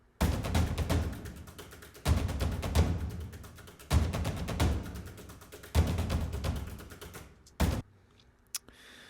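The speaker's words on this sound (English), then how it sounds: "And then the last damage kit I used was this plastic ensemble here." Dense, clattering plastic percussion hits in fast rolling bursts, repeating in four or five loud phrases separated by short pauses, ending with a few isolated clicks.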